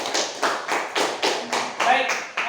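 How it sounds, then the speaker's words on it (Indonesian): A class of schoolchildren clapping hands together in a classroom: a series of about eight rhythmic, evenly spaced claps, close and fairly loud, with a brief voice sounding partway through. "Tepuk tangan untuk kita semua."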